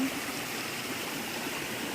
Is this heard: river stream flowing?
yes